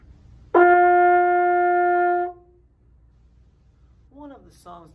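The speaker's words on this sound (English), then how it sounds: "And a high note on the trombone sounds like this." A single high trombone note rings out clear and steady for under two seconds, then fades to quiet before someone begins talking.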